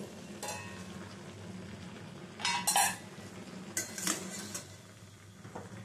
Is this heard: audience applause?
no